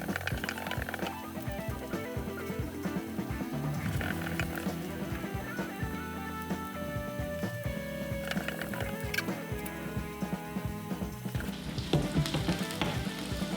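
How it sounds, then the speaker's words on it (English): Sliced onions frying and caramelizing in a pan for an omelette, a steady dense sizzle with crackling and occasional stirring clatter, close and continuous without any talk. "What we're looking for here with the onions is to caramelize them."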